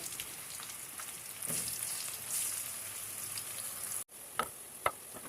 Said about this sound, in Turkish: Aynı şekilde patlıcanlarımı da o şekilde kızarttım.